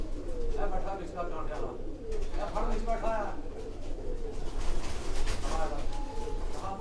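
Teddy pigeons cooing in a loft in Lahore, soft repeated coos rising and falling over a steady background hum, with people talking throughout.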